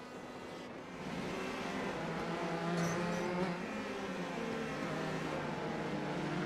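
Open wheel race cars in a video game race at Summit Point, their engines forming a dense, steady high-pitched drone of several cars at once, fairly loud throughout, with no talk.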